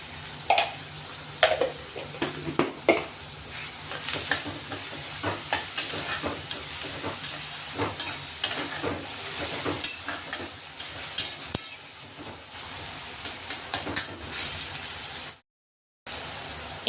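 Onions fry with salt in a pan, a soft continuous sizzle broken by frequent scraping stir clicks, faint and close, with a brief silent gap near the end.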